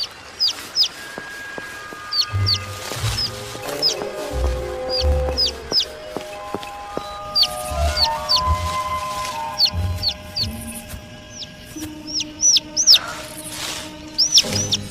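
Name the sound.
small bird chirping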